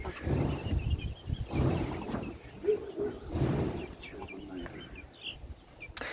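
Chickens cluck softly in short, scattered bursts near a home coop, with faint background rustling and occasional quiet voices.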